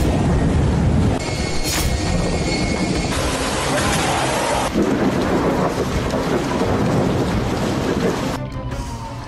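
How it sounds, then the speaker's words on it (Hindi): A heavy thunderstorm with torrential rain in the UAE makes a loud, continuous roar of downpour with rumbling thunder throughout, dense and unbroken, fading slightly near the end. "जबरदस्त आंधी तूफान के बीच चंद घंटों की मूसलाधार बारिश ने दुनिया के सबसे स्मार्ट शहर को तहस नहस कर दिया।"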